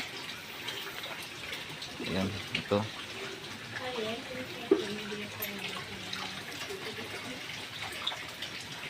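Water pours and splashes steadily into animal feed in a container, close by, while a voice speaks briefly over it.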